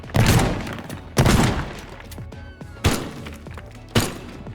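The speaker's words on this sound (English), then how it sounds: "I used a shotgun to make a hole in the wall" In the Teardown video game, four loud shotgun blasts tear into a wall, each a sharp crack with crumbling debris trailing after, spaced unevenly over a few seconds.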